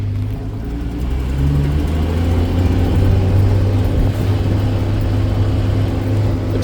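An old Land Rover 109 Series engine pulls hard and revs up while driving across a field, rising and holding a deep rumbling drone, close and loud throughout.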